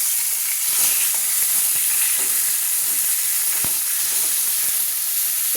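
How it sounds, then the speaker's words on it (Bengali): Pieces of katla fish fry in hot oil in a pan, giving a loud, steady sizzle and hiss that holds evenly throughout with a few soft knocks and stirs, no voices over it. "এইভাবে কিন্তু ভেজে নিচ্ছি, খুব কড়া করে কিন্তু আমি ভাজছি না"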